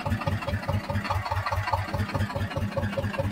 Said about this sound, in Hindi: देखो बिल्कुल साउंड तो अच्छी है ट्रैक्टर की